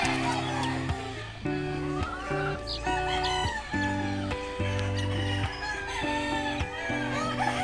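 Backyard chickens and chicks fill the yard with repeated clucks, crowing and calls, loud and close in overlapping bursts that go on without pause.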